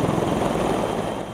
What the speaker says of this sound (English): Then the action gets more intense as a Canadian Super Huey helicopter hovers just above the vessel